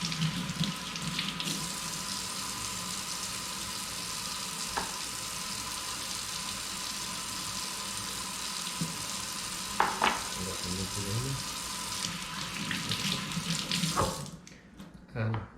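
Tap water runs steadily into a sink while deveined peppers are washed for a hearty beef cazuela, a constant close splashing hiss with a few clinks and knocks before it stops near the end.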